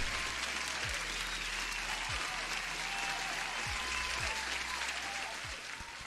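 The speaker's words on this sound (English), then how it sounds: "Huge applause." Big round of applause for a guest named Rukando from Ukraine during a live futures trading stream, a steady dense wash of clapping that holds through and eases slightly at the end, with low thumps in the background.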